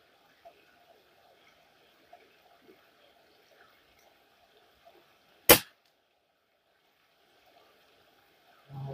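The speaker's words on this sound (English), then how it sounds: "You have to squeeze it instead of jerking the trigger, Marco." A single sharp gunshot cracks close and loud outdoors near a creek. Faint water and ambient sounds run before and after it, with a brief noise at the end.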